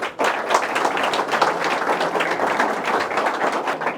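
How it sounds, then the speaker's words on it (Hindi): Audience breaking into loud, dense applause at a motivational talk, steady many-handed clapping starting abruptly and sustained throughout. "तो पहले जोरदार ताली बजा के एक्नॉलेज करो।"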